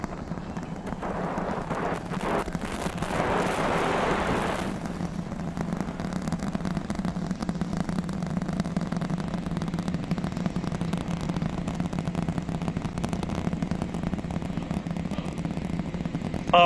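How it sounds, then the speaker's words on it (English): SpaceX Starship Super Heavy's Raptor engines rumble after liftoff, heard from a distance as a continuous, heavy, crackling roar that stays steady and powerful throughout. "The rumbles are still building here in the Raptor's nest"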